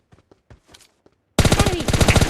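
Battle royale video game gunfire: a few faint scattered taps, then a loud close burst of rapid automatic fire rattling without pause to the end.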